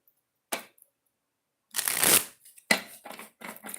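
A deck of oracle cards is shuffled up close, with a brief riffle, a pause, then a longer riffling burst followed by several short card flicks and taps.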